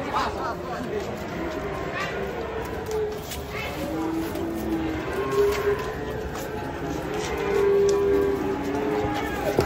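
Cattle being unloaded from a truck, with low drawn-out moos rising through busy crowd chatter and shouting, the animals sounding close to mid-distance over steady outdoor noise.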